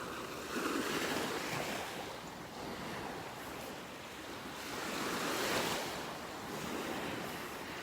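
Ocean waves wash steadily onto a beach in North Naples, Florida, a continuous soft roar of surf that swells and recedes gently, with some wind noise on the microphone and no voices.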